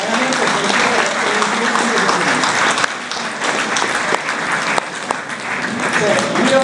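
An audience applauds for onorevole Salis at a public meeting, dense sustained clapping that stays loud and even throughout, with a brief dip partway through.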